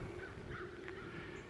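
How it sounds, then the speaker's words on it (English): Faint bird calls, crow-like caws, sound in the distance at a lakeside campground, a few short cries over a soft outdoor hush. "You can hear the birds off in the background."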